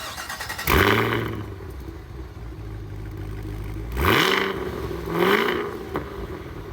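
Hand-built supercharged V8 in a 2023 Cadillac Escalade-V, a 682 hp seven-seat SUV, barks to life and then blips the throttle twice, a loud close-up roar rising and falling between steady idle, with no talking.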